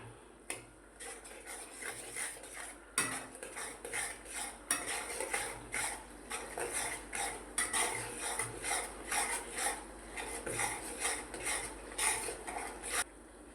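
Chickpeas being stirred in a cooking pot for chole, with a spoon scraping and clinking against the metal in a steady run of short strokes, close and fairly loud with no talking.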